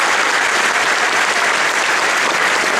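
An audience at an Islamic lecture in Hamburg claps loudly, a dense, steady roar of many hands close by and continuous throughout.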